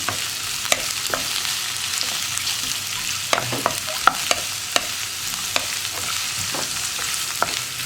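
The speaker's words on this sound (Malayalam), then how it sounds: "നമുക്ക് ഹൈ ഫ്ലെയിമിൽ വെച്ചിട്ട് തന്നെ ഇളക്കിയെടുക്കാം കേട്ടോ" Onions with salt sautéed on high flame, a dense continuous sizzle with regular scraping knocks of a spatula stirring the pan, close and steady throughout with no talking.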